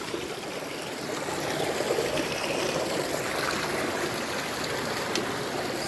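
A river flowing steadily along the edge of a farm property, a continuous broadband wash of moving water heard close and alone, with no talking.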